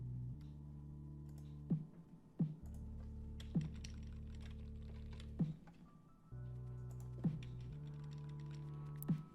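Computer keyboard keys are pressed during editing work, a handful of separate sharp clicks spaced a second or two apart over a steady low humming tone in the background.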